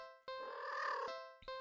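A cartoon cat purrs in a video game, a steady harmonic rumbling tone lasting just under a second, then breaking off and briefly starting again, clear and close with no talk.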